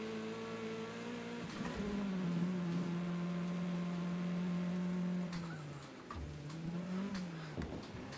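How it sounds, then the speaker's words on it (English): Whiny, high-pitched car engine from the Wreckfest 2 racing game, revving steadily and loudly for several seconds, dipping and climbing again near the end, with a thin buzzy tone and no talking. "Oh, listen to that engine sound. It sounds like a mosquito trapped in a jar."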